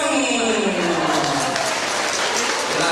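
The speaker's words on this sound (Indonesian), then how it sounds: "Tepuk tangan sekali lagi untuk Bapak dan Ibu dari Banyumas." Sustained applause from a seminar audience at a marketing training event, steady and dense throughout with a voice speaking over it.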